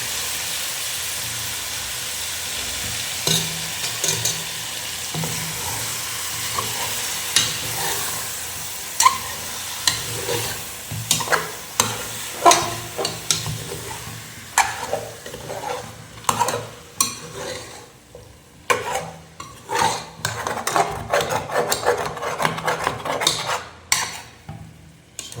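One kilogram of mutton frying in a pot for a seven-person biryani, a steady hiss and sizzle broken by repeated loud scraping stirs that grow busier toward the end.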